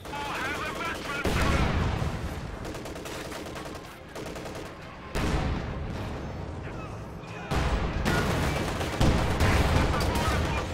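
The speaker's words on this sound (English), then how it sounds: "or all three AT guns take shots at the T-34 right there" Anti-tank guns firing at a T-34 tank in a World War II strategy video game, heard as dense, continuous battle gunfire with repeated heavy shots and booms, loud throughout, with voices faintly underneath.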